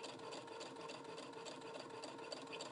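A sewing machine stitches a quilt seam with a steady, continuous mechanical whir that runs evenly throughout at moderate volume.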